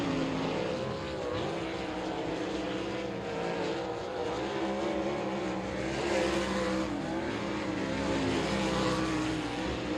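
Short-track race cars with Westmar power run during heat racing at I-30 Speedway, their engines droning and surging continuously, moderately distant and blended with track ambience.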